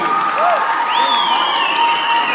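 An audience at a stage play cheers and applauds in a dense, continuous roar, with a few high whistles and shouts rising over the crowd noise.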